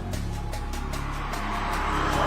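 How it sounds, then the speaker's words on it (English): A car engine revving in a radio advertisement, a steady low drone with rising pitch and repeated rhythmic pulses, loud and close with no talking over it. "Does the sound of an engine light you up?"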